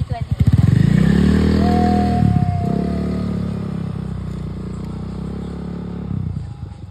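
A loud motorcycle engine rumbling close by, its pitch rising as it revs and then settling into a steady drone.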